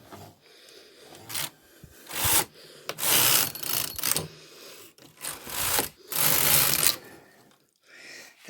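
A knitting machine carriage slides across the needle bed, knitting two rows in a series of rasping, rushing passes, each a second or so long, separated by brief pauses.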